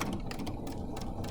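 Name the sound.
sewing machine stitching a bookmark closed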